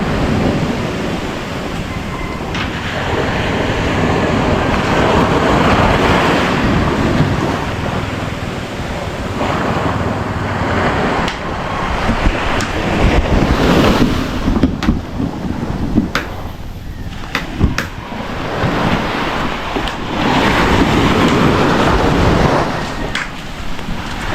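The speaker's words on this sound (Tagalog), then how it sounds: "nasimoy ng hangin dito sa tabi ng dagat" Sea waves break and wash against the shore in the wind, loud and close, with gusts buffeting the microphone in a rough, surging roar that rises and falls for about twenty seconds.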